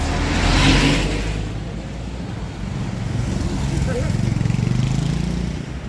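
Cars rumble along a street in Kawasaki, Japan, a steady wash of traffic with one vehicle swelling louder early on and more engines building later, while a person talks now and then.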